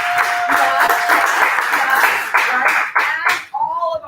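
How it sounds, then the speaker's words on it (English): Audience at a homebuyer workshop breaking into applause, a loud, dense burst of clapping close by that fades out near the end as a voice begins. "give them a big round of applause"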